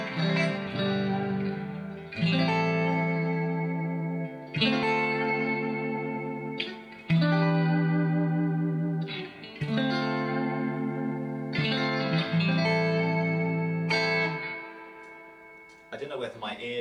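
A Strat electric guitar plays sustained, ringing chords through a Carr Skylark amp set with a scooped tone and big reverb, changing chords every two seconds or so in a steady rhythm, loud and alone without voices.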